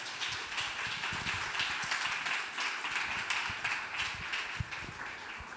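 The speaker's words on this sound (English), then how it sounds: "Please join me in giving you a hand of applause." An audience at the Tallinn Digital Summit 2025 applauds after a conference panel, a steady patter of many hands clapping at moderate distance in a large hall, sustained for several seconds.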